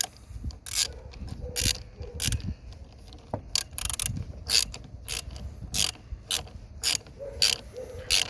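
A ratchet tightens the battery terminal on a VW Golf MK7, clicking in repeated quick bursts of sharp pawl rattles close up, separated by short pauses and faint metallic rubbing.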